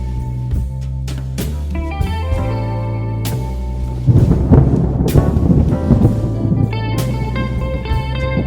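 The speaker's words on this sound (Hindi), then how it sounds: "दूर से बादलों के गरजने की आवाज सुनाई दे रही।" A low, rolling rumble of thunder builds midway and swells heavily, with steady tonal sounds running throughout.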